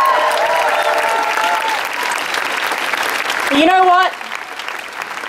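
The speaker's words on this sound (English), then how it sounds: "Let's give them a round of applause." Crowd at a marriage equality rally in Australia breaks into loud, sustained applause and cheering, with a voice speaking over the clapping near the end.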